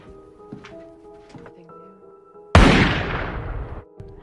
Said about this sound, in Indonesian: Rosie mendengar suara tembakan